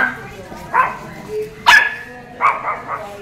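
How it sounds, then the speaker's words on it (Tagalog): Pet dogs, just bathed, give a few short sharp barks and yips at close range, spaced across the moment, with people talking nearby. "Ayan, mga aso. Mga aso."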